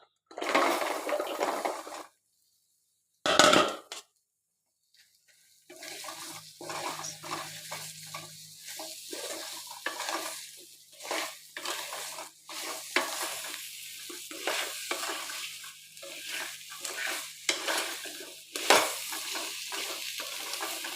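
Hog plums dropped into a pan over low heat for pickle making, with a soft sizzle and frying sounds broken by gaps, then steady stirring and scraping through the rest, close and moderately quiet.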